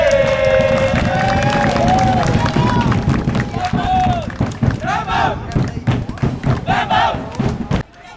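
A football crowd at a match that ends in a 1-1 draw shouts, chants and claps in loud, irregular bursts, with whistles and scattered voices rising and falling over the noise.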